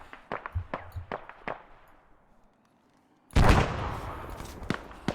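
Gunfire in the military game ArmA: a rapid string of sharp shots fading out, a brief near silence, then a loud grenade blast with a rumbling tail and a few scattered shots afterward.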